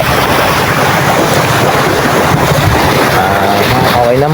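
Sea at a white sand beach in Pagbilao, Quezon, a constant loud roar of surf blended with heavy wind buffeting the microphone and no clear breaks between waves.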